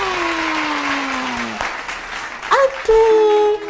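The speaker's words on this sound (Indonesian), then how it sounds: "kasih tepuk tangan buat Tuhan." A church congregation at an Indonesian children's Bible story service gives a brief round of applause, with a voice speaking and a few sharp tonal sounds near the end.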